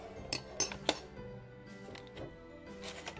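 Glassware clinks as drinking glasses are handled in a kitchen while panna cotta is being prepared: three sharp, close clinks in the first second, then softer handling clatter.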